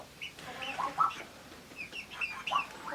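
Young chicks in a farmhouse brooder cluck and peep in scattered short calls, some clustered together, close by over a quiet background with no talking.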